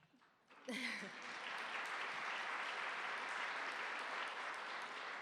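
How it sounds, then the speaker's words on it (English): An audience at a county forum bursts into clapping after a brief voice, the dense applause rising sharply and then holding steady and fairly loud. "Was that Steve Novak clapping?"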